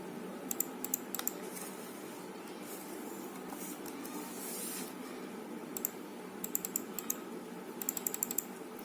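Quiet, irregular keystrokes on a computer keyboard while text is set up in a Word document, with scattered clusters of taps over a steady low room hum and no talking.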